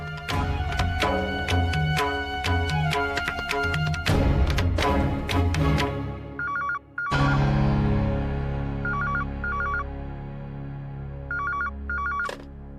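A telephone rings in a scene from a Hindi TV drama serial, with repeated short ring bursts that come in rhythmic pairs over a loud background music score. No one speaks.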